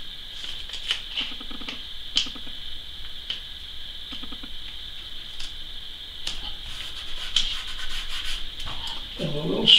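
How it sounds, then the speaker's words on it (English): A rubber brush scrubs watercolor paint off paper for a barn painting, giving soft, close scratchy rubbing strokes in short bursts over about ten seconds, with no talking. "just going to rub out some of the color on this side over here."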